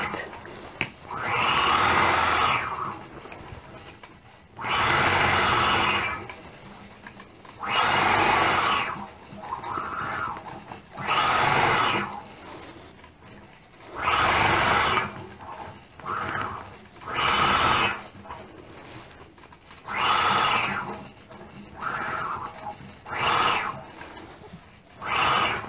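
Machine quilting a quilt block, the sewing machine running in repeated loud bursts of steady whirring a few seconds long, separated by short quieter gaps as the fabric is repositioned.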